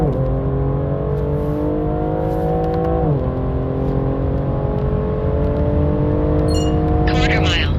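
A Stage 2 tuned 522 HP BMW M340i G20 accelerating hard, its engine note climbing steadily in pitch, dipping briefly at a gear change, then rising again, loud and close from inside the car, with a few electronic beeps near the end.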